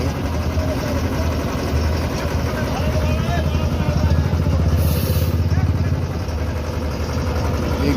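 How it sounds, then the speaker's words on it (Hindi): Pitch tanker truck engine, started with fire to convert pitch to oil, running with a steady low rumbling drone that rises slightly midway, with a faint voice. "आग देने से वहाँ पर जो इंजन है वो स्टार्ट हो जाएगा।"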